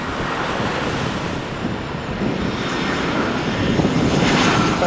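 A jet airplane roars steadily at Gibraltar Airport, runway 27, loud and close, its engine noise blending with wind buffeting and a broad rushing wash that swells slightly toward the end, with no voices.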